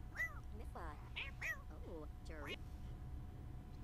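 A cat in The Sims 4 meows repeatedly while being petted, several rising and falling meows at moderate level over a soft steady game background, fading out toward the end.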